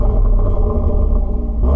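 Audi S3 with its standard sports exhaust held at steady high revs, a loud, continuous close-up engine drone with slight flutter and no voices over it.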